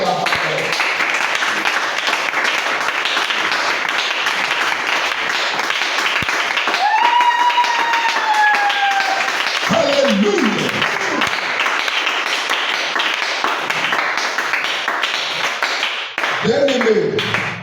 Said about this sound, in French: Nous pouvons nous asseoir et acclamer très fort la parole.